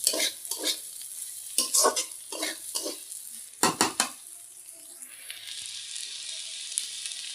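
Egg, potato and onion frying in a pan, with a steady sizzle under a series of sharp scraping stir strokes from a utensil, then settling into a continuous hiss.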